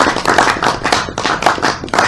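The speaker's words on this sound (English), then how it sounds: "I think you deserve a huge round of applause" Clapping from a small group right after a presentation on citizenship, loud and close, with rhythmic bursts of hand claps running steadily through the whole moment and no talk.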